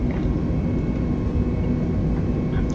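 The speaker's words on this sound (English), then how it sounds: "we're going to increase the throttle now into toga position, which is full throttle" Airliner engines spool at full takeoff thrust in Microsoft Flight Simulator 2020, a steady, dense, loud roar that holds evenly through the short stretch, with no talking.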